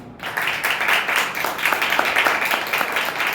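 A church congregation at a Hindi-language worship service claps together after a brief pause, a steady, fairly loud wash of many hands clapping that continues for around three seconds without speech.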